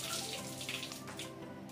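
Water runs steadily into a concealed toilet cistern after its ball cock has been repaired, a continuous close hissing flow with no voices over it.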